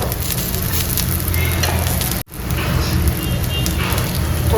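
Cumin, garlic and ginger roast in oil for chicken kharda, making a loud, close, crackling sizzle that holds steady with a brief cut partway through.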